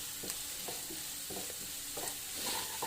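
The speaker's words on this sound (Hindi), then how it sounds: "3 मिनट के लिए सॉटे कर लेंगे फ्रेंड्स ऑनियन को अपन" Onions sautéing in a pan for a minced mutton samosa filling, a soft steady sizzle broken by repeated stirring scrapes at a regular pace, fairly quiet and close, with no talk.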